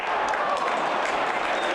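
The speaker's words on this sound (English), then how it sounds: "Well-deserved applause from the home supporters" Home supporters applaud at a third-division football match in Braunschweig, a dense, steady wash of clapping filling the whole moment at close range.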